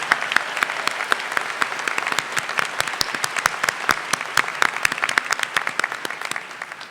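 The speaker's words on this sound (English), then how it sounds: "Please join me in a round of applause and congratulations to the LL.M." Audience applause at Albany Law School's 175th commencement ceremony, honoring LL.M. graduates: a dense, steady patter of many individual hand claps, close and fairly loud, continuing for several seconds before thinning out at the end.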